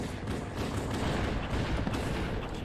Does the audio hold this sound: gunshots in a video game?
yes